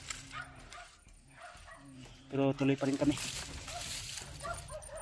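Several dogs bark and yip in a quick cluster of sharp barks somewhat off in the distance, with a person talking over them.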